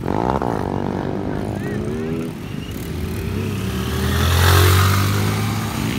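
Motorcycle engines revving and passing on a busy Sunday street meet of wheelie riders, a steady engine drone that swells louder toward the end, with voices mixed in.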